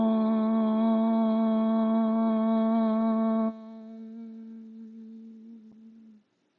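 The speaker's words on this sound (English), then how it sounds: "And then it's the sound of Om to start our practice." A single voice sustains a long, steady Om chant to open a yoga practice, rich and even for several seconds, then shifting to a softer closed hum that fades out.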